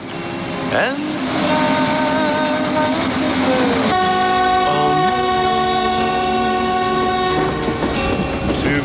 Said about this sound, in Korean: 낡은 전기기관차에서 나는 이 소리